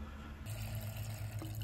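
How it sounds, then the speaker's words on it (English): Water runs faintly and steadily into a cooking pot while making Manipuri-style pork curry, a quiet continuous pour with a low hum behind it and no talk. "Let me put some water"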